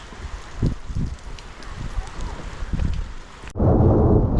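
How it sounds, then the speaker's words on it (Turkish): A thunderstorm over a village in April: low thunder rumbles roll in several bursts, then heavy rain and gusting wind swell into a loud, steady wash near the end. "Şimşekler atıyor. Güzel yağmur yağıyor."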